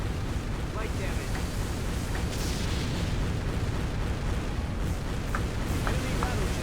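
An enemy battleship sinking in the naval combat game Warship Gunner 2, a sustained, dense rumble of explosions and booming blasts with scattered sharper pops over several seconds, heavy and close throughout.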